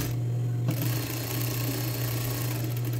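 A sewing machine hums steadily as it stitches a seam in linen trousers, with a constant close motor drone and a brief shift in tone near the start, and no voices.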